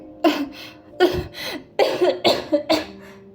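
A run of sharp, harsh coughs, about six bursts in uneven succession, close and loud with no talking.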